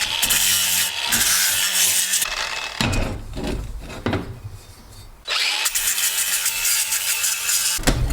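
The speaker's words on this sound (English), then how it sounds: "Sandpaper disc." A sandpaper disc grinds against wood with loud, harsh, continuous abrasive roaring close up. It breaks off in a few short pauses and then resumes at full strength.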